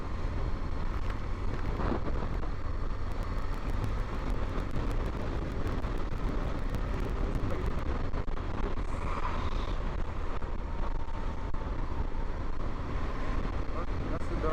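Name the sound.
heavy road traffic heard from BMW R1200 GS motorcycle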